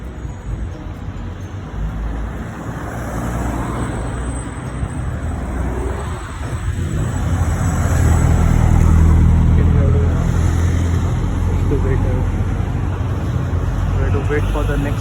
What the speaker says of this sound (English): You can see there is really nice cars over here.